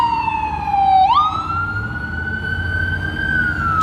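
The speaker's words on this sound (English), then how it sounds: "Just an ambulance, but you can see it's foggy." A loud ambulance siren wails nearby in foggy downtown San Diego, its tone dipping low then sweeping back up and holding steady.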